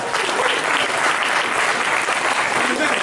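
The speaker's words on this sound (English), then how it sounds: "So y'all can clap for that one." A congregation at a Shabbat service claps together, a dense, steady burst of applause filling the room for a few seconds.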